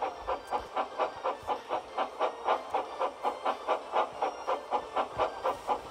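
A steam locomotive pulls out of a station, rhythmic chuffs of exhaust steam repeating evenly at a moderate pace, fairly faint and alone.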